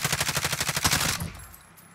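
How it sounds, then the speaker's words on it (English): A rapid automatic burst of gunfire in the Call of Duty Warzone video game, about a dozen evenly spaced shots in quick rhythm, loud and close, then cutting off into a fading tail. "We're getting shot at so much."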